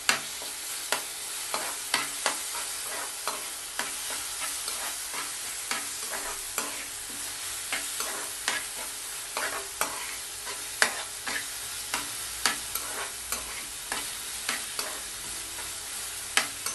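Tomato, onion and ginger garlic paste are sautéed in a pan for veg pasta, with a continuous sizzle and regular, close spoon scrapes and taps repeating every second or so.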